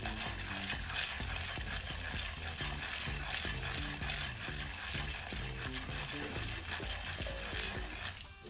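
Caramel-coated popcorn kernels being stirred fast in a hot pan, a busy scraping and rattling texture with sizzling underneath, continuous and close, while a person talks over it.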